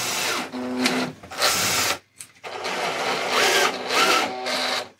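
A CNC mill machines a piece, with several loud, close bursts of whining motor and cutting noise separated by short pauses.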